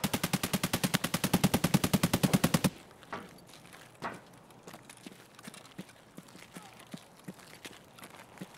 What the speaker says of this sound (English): All I hear is non-stop RD-704, fully auto.